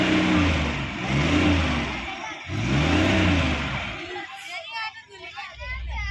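Maruti Omni 2009 van with a carburettor engine, revved in repeated loud rising and falling bursts, then dropping toward idle, with people talking over and between the revs.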